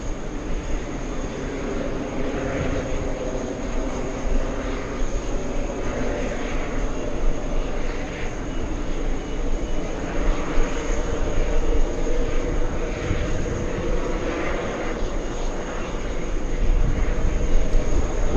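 A jet engine roars steadily at Los Angeles airport as an aircraft takes off, a loud continuous rumble with a high whine that swells slightly toward the end.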